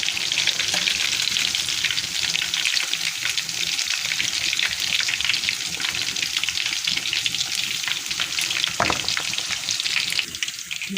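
Fish for a Lahori fish fry sizzles in a pan over low heat, a dense continuous crackle and hiss with a brief clatter near the end.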